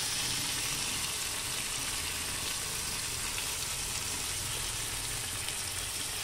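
Spice paste of turmeric, chili powder and ginger paste fries in a pan for a carrot, potato and paneer kofta curry, a steady loud sizzle that holds throughout with no talk.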